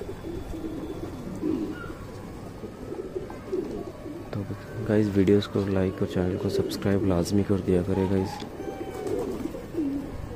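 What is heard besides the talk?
pigeons cooing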